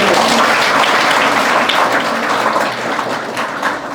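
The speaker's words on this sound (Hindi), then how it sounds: "जोरदार तालियां" Loud, close applause from a school audience at an anti-drug workshop in Dharampur, Solan, a thick sustained burst of clapping that tapers gently toward the end.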